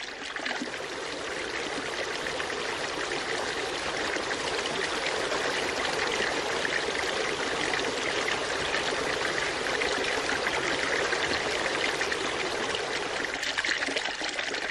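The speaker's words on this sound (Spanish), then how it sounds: "Todavía la gente toma agua de sus caños, y de tarde en tarde viene a abrevar algún caballo." Water pours steadily from the spouts of a large old stone horse trough in a Spanish town, a continuous close splashing stream with no break or other sounds.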